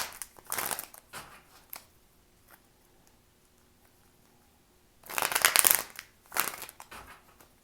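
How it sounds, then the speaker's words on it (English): Bursts of cards being shuffled, riffling and flicking close up, separated by a quiet pause before another longer shuffle. "It's a lot of cards to shuffle, so I apologize in advance."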